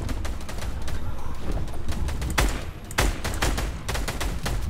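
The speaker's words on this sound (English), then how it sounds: "Everybody else is shooting" Players shooting in a Fortnite end-of-chapter live event, with dense, continuous gunfire crackling in rapid overlapping bursts and sharp louder shots, the whole crowd of weapons firing steadily at moderate distance, no talking.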